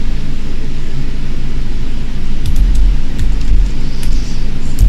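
Steady, loud airliner cabin noise on a flight from Miami to Las Vegas, a dense low rumble and broadband hiss holding constant throughout, with faint small clicks near the end.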